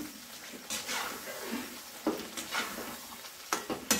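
Masala egg curry with homemade masala frying in oil in a pan, stirred with a spoon in short scraping strokes over a soft sizzle, moderately close.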